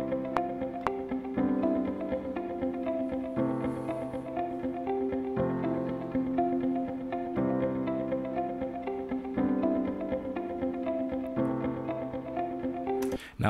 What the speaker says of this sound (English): that double tracking of two identical guitar riffs, but on different channels